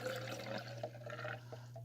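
Almond milk poured from a carton into a container, a short liquid trickle and splash under a steady low hum, close and fairly quiet, with no talking.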